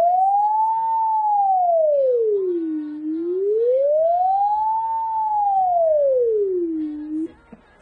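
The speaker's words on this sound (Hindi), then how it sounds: "उसको इस सायरन ने उस आवाज को बिल्कुल ही दबा दिया और ये सायरन आ गया उसकी जगह" A loud electronic siren wails smoothly up and down through two slow cycles, then cuts off abruptly.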